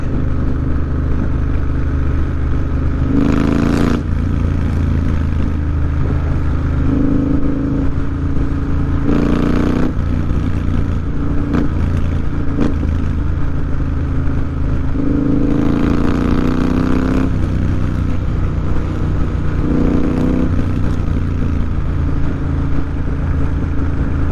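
A motorbike accelerates to overtake on an English country road, its mid-pitched engine rising in several revving surges over a steady drone and wind, close and loud throughout.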